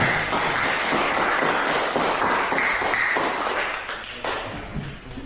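A classroom of students claps together for classmates after a science experiment presentation, a dense burst of hand claps that holds steady and then tapers off toward the end.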